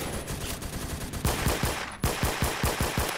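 Rapid automatic gunfire in a Roblox first-person shooter, a steady rhythmic burst of shots that grows louder and punchier partway through, close and with no talk over it.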